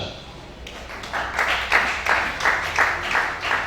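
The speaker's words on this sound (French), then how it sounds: "Acclame ça." A church congregation applauds in a steady run of claps that swells after the first second and keeps pulsing in waves, fairly close and loud, with voices mixed in.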